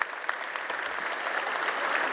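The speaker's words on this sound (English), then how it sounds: "I think we should all give her a round of applause" A crowd gathered for a facility event applauds warmly, with steady close clapping that builds slightly and holds without any talking.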